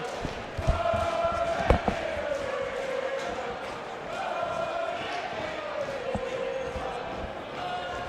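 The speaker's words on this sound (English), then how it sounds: "Yeah, you can hear him chanting." Crowd chanting in support of a boxer at a live boxing bout, a steady sustained vocal swell from a large audience with rhythmic rises, mid-distance, with a commentator's voice talking over it.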